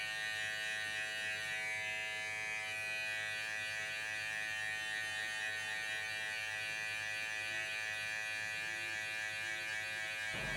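Electric hair clipper cutting hair at a home haircut, a continuous close motor buzz running unbroken for about ten seconds, steady and alone, cutting off abruptly at the end.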